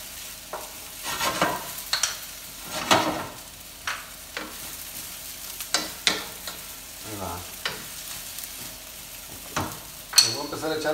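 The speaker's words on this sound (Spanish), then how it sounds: "Ya puse la cebollita. Ahí está guisándose." Onion sautéing in a pan for green chilaquiles, a steady soft sizzle broken by repeated scraping stirs of a spatula against the pan, close and fairly loud.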